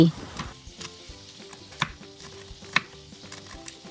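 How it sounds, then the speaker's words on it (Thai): A knife slices stacked, halved kaffir lime leaves on a cutting board, giving a run of light, irregular chopping taps at close range with faint kitchen clatter and no talk. "นำใบมะกรูดมาวางสองทับกัน จากนั้นแบ่งครึ่งแล้วมาหั่นซอย"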